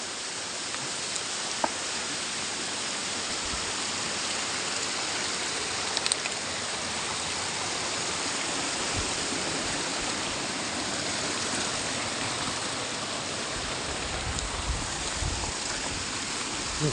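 A waterfall roars as a steady, dense wash of falling water that stays loud and unbroken throughout, with no voices.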